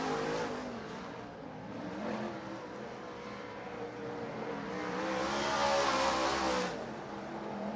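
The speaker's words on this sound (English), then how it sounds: "Dave Hess Jr. in the car 44, fast to practice. He's third to qualify." A modified race car laps the track during qualifying at an East Bay WinterNationals event, its engine droning steadily with rising and falling pitch as it passes, loudest near the end, no talk.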